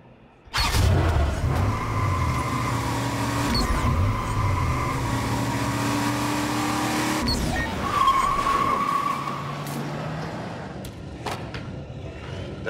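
A hacked car in Watch Dogs 2 revs and drives off, engine drone steady and close, with tire squeal and skidding as it maneuvers, then fading toward the end.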